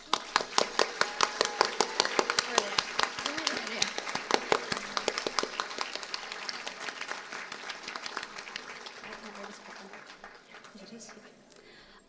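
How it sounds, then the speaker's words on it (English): Audience applause for students at a university major inauguration ceremony, dense steady clapping from a seated crowd that starts strong and gradually thins and fades over about twelve seconds. "let's give them a round of applause, please"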